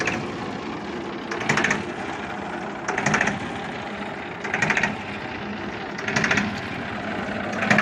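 A 35-horsepower Massey Ferguson 1035 DI tractor idles with a constant low rumble, punctuated by four evenly spaced louder bursts of rattling, high-pitched mechanical noise.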